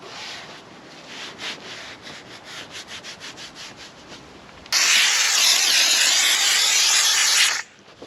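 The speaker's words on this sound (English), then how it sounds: "The steam cleaner's cleaning up all the surfaces really good other than these vinyl leather bits." A steam cleaner works over the interior surfaces of a long-neglected Pontiac Trans Am, first with rhythmic rubbing strokes, then a loud steady hiss of steam for about three seconds before cutting off.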